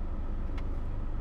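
A 2012 Mitsubishi Outlander Sport PX SUV idling just after starting, a steady low engine hum heard from inside the car with no talking.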